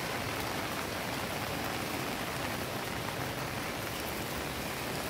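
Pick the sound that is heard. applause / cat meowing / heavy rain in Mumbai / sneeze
heavy rain in Mumbai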